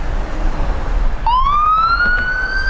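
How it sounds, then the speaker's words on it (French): A police car siren rises in a sweeping wail as it arrives, loud and close over steady road traffic noise, the tone climbing slowly after a sudden start partway through. "Il y a un char de police qui est arrivé."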